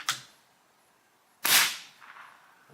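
Umarex Komplete NCR air rifle with a Notos cylinder firing, two sharp cracks a second and a half apart, the second louder with a brief tail, in a quiet setting.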